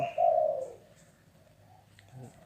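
A dove gives a soft, low coo, followed by quiet pauses and a few faint chirps and a brief flutter near the end.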